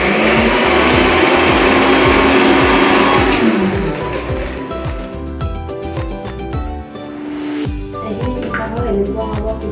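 An electric mixer grinder whirs loudly as it grinds fried garlic and chillies, a dense motor roar that shifts pitch partway through and keeps running close and continuous.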